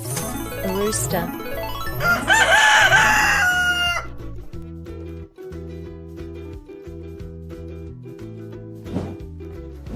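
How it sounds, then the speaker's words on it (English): A rooster crows loudly and close up, its long rising call filling the first few seconds before tailing off, with background music continuing underneath. "A rooster."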